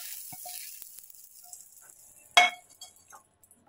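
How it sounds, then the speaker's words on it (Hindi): Tadka of crushed garlic and cumin sizzles softly in desi ghee for dal, a faint frying hiss that fades, broken by one sharp metallic clink of a utensil and a few small taps. "ये तड़का देखिए हमारा बिल्कुल तैयार है।"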